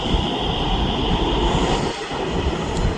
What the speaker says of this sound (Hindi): घंटाघर से आ चुकी है ये मेट्रो।